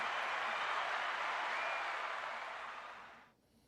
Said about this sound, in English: Got applause for my man.